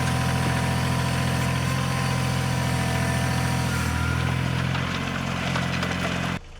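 A tractor engine runs steadily at idle, a low rumbling drone with a knocking vibration, loud and close, continuing without speech before cutting off near the end.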